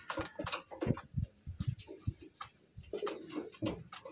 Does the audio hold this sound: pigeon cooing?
yes